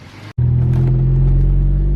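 A 10th-generation Honda Civic fitted with an MA Performance exhaust drives past close by, a brief dip giving way to a loud, steady low engine drone and exhaust rumble that holds without a break.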